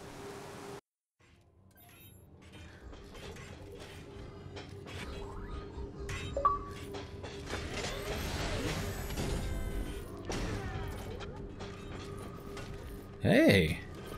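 A tram in the video game ReCore hums and rumbles along its track with a low mechanical drone, a brief hiss and clanks mid-ride, and a short distant cry near the end.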